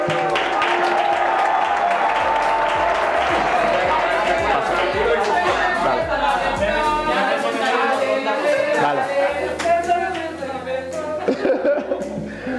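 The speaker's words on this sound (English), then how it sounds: "An applause to them." Audience applause mixed with crowd chatter and light laughter at a newsroom diversity event, steady and loud throughout, dense and overlapping, fading somewhat near the end.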